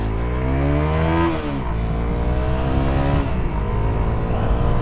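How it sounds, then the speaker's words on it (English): A Honda CRF 250L motorcycle engine drops in pitch as the rider brakes with ABS on a road, then settles into a steady loud drone close by. "put the brakes on. Yeah, activating the ABS there, really nice, works really well"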